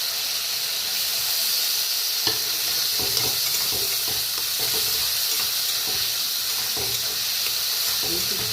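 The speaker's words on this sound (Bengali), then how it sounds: "একটু জল দিয়ে কষাবো।" Masala with ginger paste and a splash of water sizzles and hisses steadily in a pan, with intermittent scraping and stirring clicks over the frying.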